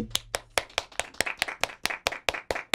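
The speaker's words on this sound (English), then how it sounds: "everyone clap your hands" Hands clap in a quick, steady series of about a dozen sharp claps, close and loud, with no voices over them.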